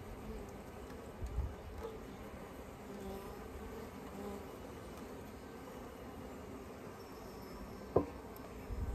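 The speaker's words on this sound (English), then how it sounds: "we're gonna be putting in the hive after we shake the bees into the box" A steady, low insect hum of many honey bees buzzing close by in a package during hive installation, with a single sharp knock near the end.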